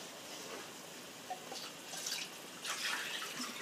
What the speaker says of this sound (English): you can just add all the water